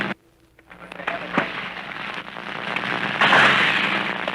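Gunfire during a Marine beach landing at Kwajalein in 1944, rendered as dense crackling bursts and sharp cracks that build into a loud sustained rattle, with a voice speaking over it.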